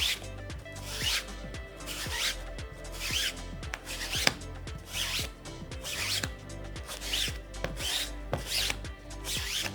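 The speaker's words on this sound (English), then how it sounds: "Now here on the right side, we are going to use our rubber eraser." A rubber eraser scrubs back and forth across a table tennis paddle's rubber surface, making close, rhythmic rubbing strokes roughly once per second in a steady series with no talking.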